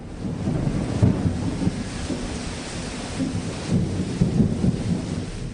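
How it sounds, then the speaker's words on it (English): Thunderstorm with low rumbling thunder rolling under steady rain, with wind buffeting the microphone; continuous, moderately loud, no voices. "The rains have started."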